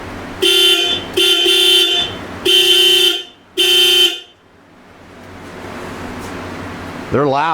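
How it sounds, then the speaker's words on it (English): A car horn on a vehicle under restoration blares in four loud, evenly spaced honks, then falls quiet. A voice comes in at the end. "Get out of the way, honk."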